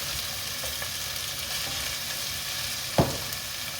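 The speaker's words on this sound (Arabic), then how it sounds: "هسه أضيف الدجاج" Chicken goes into a pan of lightly softened onions for a Kurdish chicken-and-barberry dish, giving a steady frying hiss throughout, with a single sharp knock of the pan or utensil near the end and no talking.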